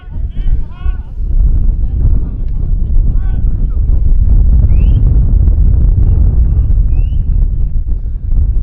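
Strong wind roars and buffets the microphone at an outdoor rugby match between Old Patesians and St Austell. The rumble is loud and steady throughout, with faint higher sounds over it and no clear speech.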